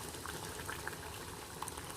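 Hot water is poured into a pot of cooked chickpea fitfit, giving a steady, close bubbling and gurgling of liquid throughout, with no voices.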